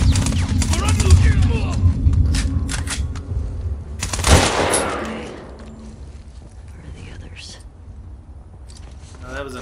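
Gunfire in The Last of Us Part II: a cluster of sharp shots early on, then one loud blast around the middle, all mixed with voices talking over the action.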